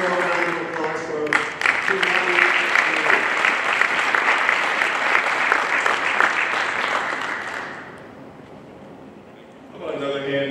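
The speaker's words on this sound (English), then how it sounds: "One more round of applause for" An audience at a high school class of 2021 honors luncheon breaks into sustained, loud applause that fades out around eight seconds, with a voice speaking over the start and again at the end.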